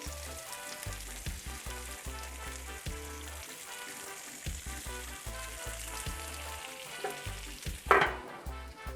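T-bone steaks sizzle on a Blackstone griddle with a dense, crackling hiss, joined by irregular scraping and clattering of a spatula, fairly quiet and close, with a sharper clatter near the end.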